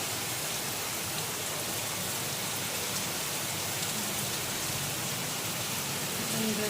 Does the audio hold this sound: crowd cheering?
no